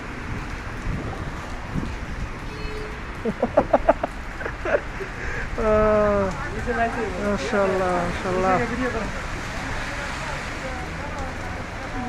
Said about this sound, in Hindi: ये बहुत धूमधाम से बारिश हो रही है